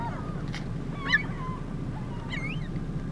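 Seagulls call at sunrise, a couple of short squawking cries at moderate distance over a steady low background rumble, with no one talking.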